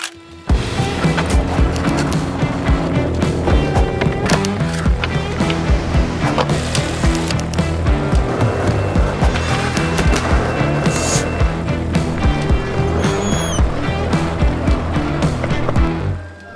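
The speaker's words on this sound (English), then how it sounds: "We're gonna warm up and get skating this beautiful borrowed times ramp." A skateboard rolls back and forth on a borrowed mini ramp, its wheels rumbling loudly and continuously, broken by repeated sharp clacks and knocks of the board hitting the coping and deck, all close and without talk.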